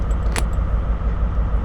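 A key is inserted into the train controls in Train Sim World 5, a brief metallic jangle and click over a steady low engine rumble from the cab.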